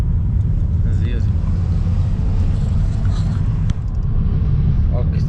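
Renault Clio driving at about 50 km/h, a loud steady interior engine and road rumble with people talking over it.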